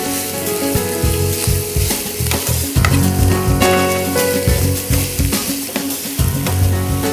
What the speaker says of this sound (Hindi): ये हम एक छोटी कटोरी कीमा डालते हैं इसमें और अच्छी तरह भूनिए प्याज के साथ।